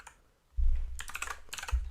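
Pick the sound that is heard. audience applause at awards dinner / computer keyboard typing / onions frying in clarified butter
computer keyboard typing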